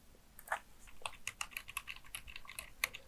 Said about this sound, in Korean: 코드를 작성했으니까 F5키를 눌러서 한번 확인을 해볼게요